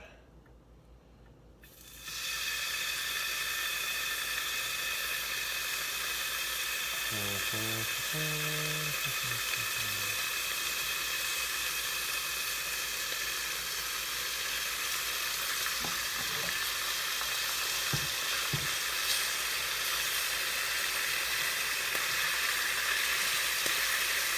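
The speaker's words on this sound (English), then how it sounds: "Take 2 pieces of our bacon. Tear it in half to make 4 smaller pieces. Makes it a little bit easier to cook up." Bacon pieces fry in a pan with a loud, continuous sizzle that starts abruptly and holds for the whole stretch, broken by brief utensil scrapes and a short tonal blip.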